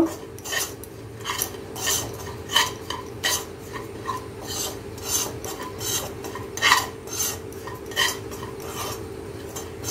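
A spatula scrapes and stirs stuffed green chillies (bharwan mirch) in a pan as they roast. The scraping comes in steady, rhythmic strokes over a low background hum, with no talking.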